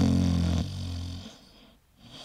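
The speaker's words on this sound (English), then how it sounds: "maybe it has something to do with listening to your mother snore" A woman snores loudly and deeply, a single drawn-out rasping breath that fades away.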